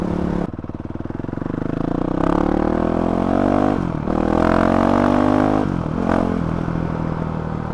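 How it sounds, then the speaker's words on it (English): A Honda CRF 450 RL dirt bike with a GET ECU and stock exhaust revs up and down close by, its engine rising and falling in loud swells with a faint decel pop as the throttle closes. "there's a little bit of tiny decel pop, but for the most part it's gone."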